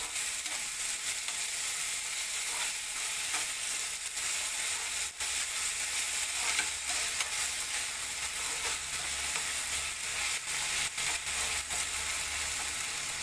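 Tomatoes with salt being stirred in a hot pan give off a steady, close sizzle with scraping and stirring sounds running throughout, and no voices.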